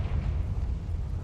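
A Confringo blasting curse goes off in Hogwarts Legacy, a steady low rumbling roar of fiery impact filling a short moment at moderate loudness with no voice over it.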